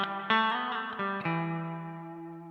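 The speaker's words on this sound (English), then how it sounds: "The next is a traditional spring sound." Guitar chords strummed through the spring setting of a Mad Professor Kosmos reverb pedal, a splashy reverb with each strike ringing out in a long, wobbly tail that fades slowly.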